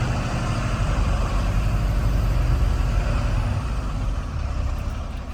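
A fully loaded truck grinds up a slight incline in first gear, its engine a loud, steady low-pitched labouring drone close by that holds constant throughout, easing only slightly near the end.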